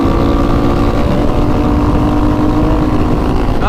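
Kawasaki ZX10 motorcycle engine droning steadily at high revs during supermoto wheelies, a loud continuous tonal whine with sustained pitch and a brief shift near the end.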